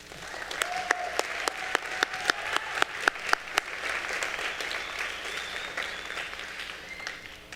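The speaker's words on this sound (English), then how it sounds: "Please give these directors and Ms. Malden a round of applause." An audience at a junior high school spring band concert applauds, a sustained round of clapping with a few sharp, close claps standing out early, then fading slightly.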